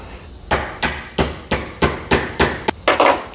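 A hammer taps a punch to drive a pin through a part of a 1967 Porsche 912: about nine sharp metallic strikes in a steady rhythm, close and loud, the last few coming slightly faster.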